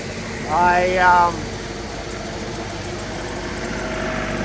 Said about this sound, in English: It's only a 35 horse little tractor, so I do have to hold the hydraulics on.